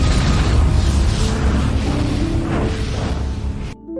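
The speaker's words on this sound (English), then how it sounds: "and there was a huge explosion" A big, rumbling anime explosion roars loud and sustained, its deep boom rolling on for several seconds before cutting off abruptly.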